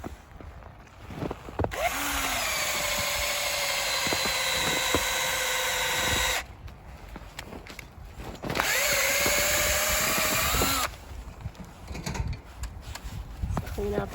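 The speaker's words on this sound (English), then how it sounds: "So a power drill comes in very handy." A power drill whines in two long, sustained bursts as it bores into the wood of a live maple tree, separated by brief pauses with background noise.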